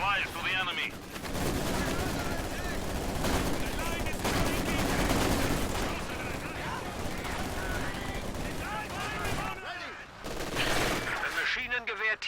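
Long bursts of MG42 machine gun fire in the Company of Heroes 2 strategy game rattle almost continuously amid other battlefield gunfire, with a voice talking over the din.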